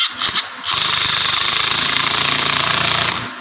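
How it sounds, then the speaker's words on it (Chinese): An electric impact wrench tightening a hydraulic hose fitting, a brief start and then a loud, steady rapid hammering buzz held for nearly three seconds, close up with no talk. "然后拿一个电动扳手，就是一个电动扳手"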